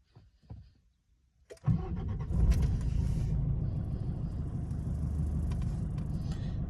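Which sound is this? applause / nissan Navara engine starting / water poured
nissan Navara engine starting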